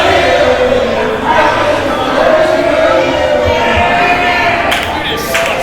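Crowd at an indie pro wrestling show chanting in unison, a steady rhythmic roar of many voices filling the room at close, loud level.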